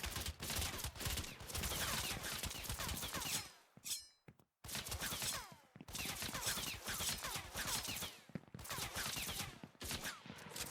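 Rapid gunfire rattles in a shooter game in dense, loud bursts, with a brief pause before the shooting resumes; voices are faintly heard beneath it.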